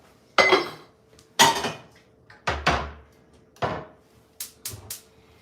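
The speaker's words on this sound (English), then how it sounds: "So now we get out the pan." An Our Place Always pan comes out of a kitchen cupboard amid a series of about six sharp clanks and knocks of cookware and wood, spaced unevenly, close and fairly loud, with no talk.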